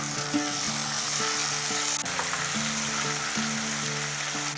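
Ginger-garlic paste with chopped green chili frying in a pan: a dense, continuous sizzle close by with a sharp clink partway through, over a faint tonal background, and no one speaking.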